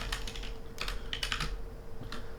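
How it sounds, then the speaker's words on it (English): Quick, light clicks of typing on a computer keyboard come in uneven bursts at close range over a faint steady hum, with no voice. "All right, I can type this out."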